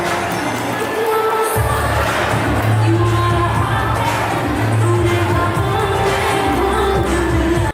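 A crowd at a Holi celebration cheers and shouts loudly and steadily, with whoops rising over a dense wash of voices that sound close and sustained.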